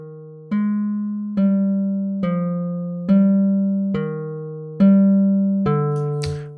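Seven MIDI notes played back in Logic Pro X as a velocity crescendo, each sustained tone with a clean, tuner-like timbre entering at a steady pace and getting louder, with a brief noisy burst at the very end.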